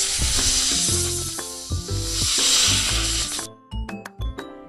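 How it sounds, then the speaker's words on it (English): Snake hissing at a zoo, a broad airy hiss that runs steadily for several seconds over a tonal musical backing, then breaks off. "Snake."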